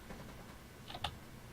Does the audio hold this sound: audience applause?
no